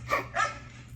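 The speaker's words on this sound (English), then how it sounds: "there is a dog jump scare right here." A dog barks twice in quick succession as a sudden jump scare in the 1981 horror film Halloween II, sharp and fairly close over a low steady background hum, then fading out.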